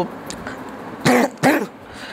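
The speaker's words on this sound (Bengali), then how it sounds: "আমার তো অনেক কাশি হয়েছে, ঠান্ডা লেগেছে" Two sharp coughs from a person with a cold, about half a second apart, loud and close against quiet room noise.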